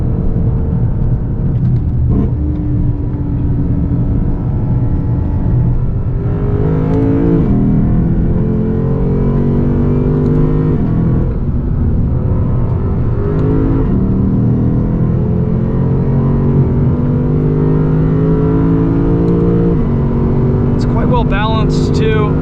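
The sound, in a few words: 2020 Lexus RC-F engine driving on a race track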